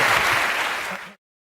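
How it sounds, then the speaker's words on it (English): A studio audience at a TV comedy panel show claps in a burst of dense applause that fades and cuts off abruptly after about a second. "Al Murray, give him a round of applause"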